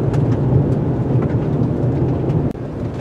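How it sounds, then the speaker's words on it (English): Heavy rain and wind batter a 2022 Subaru Forester Wilderness on the road, a loud, steady rushing roar with no voices. "All that rain and wind."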